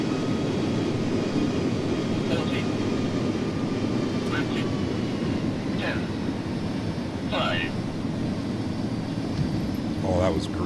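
Airliner cabin roar from an iniBuilds A300 touching down in the X-Plane 11 flight simulator, a steady loud broadband engine rush with thrust reversers deployed, continuous throughout while someone talks over it.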